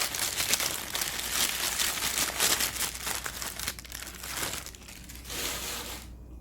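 Cut paper packaging crinkles and crackles continuously during an unboxing, loud and close for several seconds before it eases off toward a brief quiet moment. No speech is heard.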